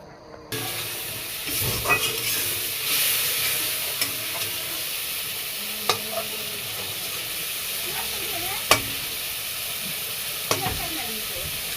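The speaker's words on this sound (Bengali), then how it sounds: "তো এখন আমি মশলাগুলো দিয়ে ভালো করে সাঁতলে নেব।" Spices sautéing in hot oil for an egg curry: a steady loud sizzle with hissing steam and repeated spatula stirring and scraping clicks, no talk.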